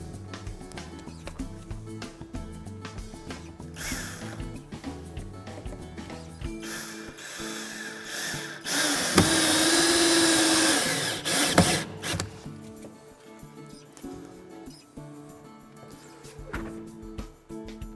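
A screw is driven into an exterior door frame behind pulled-back weather stripping, producing a close ratcheting, whirring drive sound with a louder sustained burst in the middle and lighter clicks before and after, over steady music.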